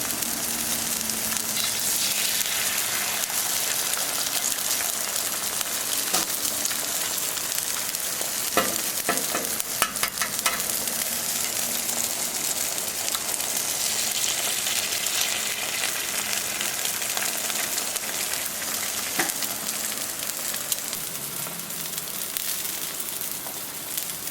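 Sausage and eggs fry on a Camp Chef Sidekick griddle greased with bacon grease, giving a steady close sizzle throughout with a few faint clinks and scrapes and no talking.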